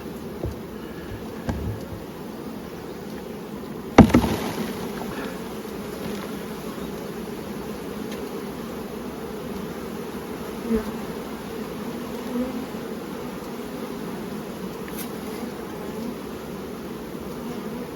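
Honey bees buzz steadily around an open hive with brood and capped honey in hot weather, a continuous close drone with a brief knock partway through.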